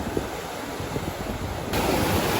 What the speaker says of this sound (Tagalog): High tide na yun o, yung alon o.